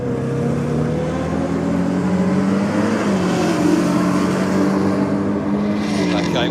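A turbocharged Datsun Skyline drag car with a dinner-plate-sized turbo builds boost at the launch at Sydney Dragway, its engine holding a steady droning note that rises slightly, loud and close, with commentary over it.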